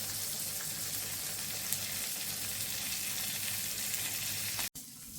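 Food fries in a pan with a steady, close sizzle and crackle that runs unbroken, then cuts off abruptly near the end.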